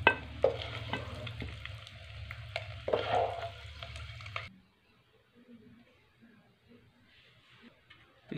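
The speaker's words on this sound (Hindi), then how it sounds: "इनको 1 मिनट तक के लिए फ्राई कर लेंगे।" Eggs frying in a hot pan while making an egg gravy, with a loud, close, steady sizzle and crackle for about four seconds that then cuts off to near quiet and a few faint clinks.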